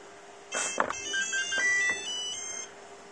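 Startup beeps from the sound module of a KingKong RC ZIL 130 (555 MMZ) scale dump truck: a short run of electronic tones and chirps lasting about two seconds, fairly clear against a quiet background.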